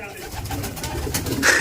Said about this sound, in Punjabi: ਚਾਰ ਖੁੱਡੇ ਇੱਥੇ ਆ ਇਹਨਾਂ ਵਿੱਚ ਵੀ ਕਬੂਤਰ ਆ ਜੀ